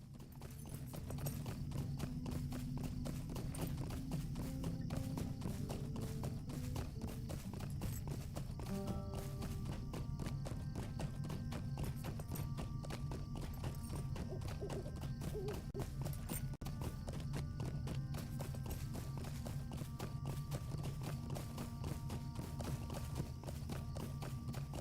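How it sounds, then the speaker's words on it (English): Horse hooves clip-clopping at a steady riding pace in the video game LOTRO (The Lord of the Rings Online), a continuous even rhythm that stays moderately close, with soft game ambience underneath. "we're just gonna get on our horse"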